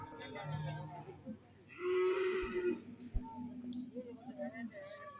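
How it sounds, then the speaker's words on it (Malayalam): At a busy cattle market, buffaloes give a single low, drawn-out moo amid scattered thumps and distant people talking in the background. "പോത്തുകളാണ് ഇവിടെ നിൽക്കുന്നത്"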